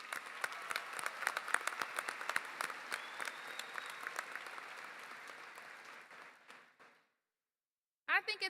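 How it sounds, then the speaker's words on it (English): Dense, loud applause fills a college commencement ceremony hall, the Delta College 89th commencement in 2024, steady for about six seconds before fading to silence; a voice begins speaking at the end. "let's please give them a round of applause for all their hard work and dedication"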